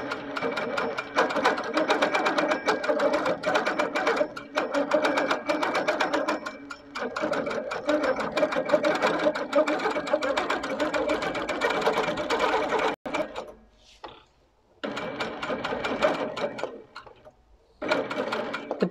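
A sewing machine doing sit-down free-motion quilting in a quilting showroom: a loud, close, steady whirring hum with fast stitching chatter, broken by a few short pauses before restarting.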